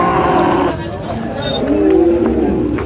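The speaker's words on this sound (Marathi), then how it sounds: "मोठ्या मापाची गाय." A large cow lowing at a Sangola cattle market where Jersey cows are traded, several drawn-out moos rising over a steady murmur of crowd chatter.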